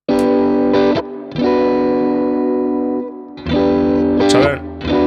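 An electric guitar runs through an effects preset with distortion and chorus, ringing sustained chords in loud bursts separated by short breaks, with a brief higher pick scrape near the end.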